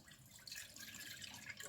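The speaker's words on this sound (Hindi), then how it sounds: "सबसे पहले दूध डालेंगे।" Milk pouring into a pan as the first step of a mango ice cream, a steady soft liquid trickle and splash running for a couple of seconds, fairly quiet and close.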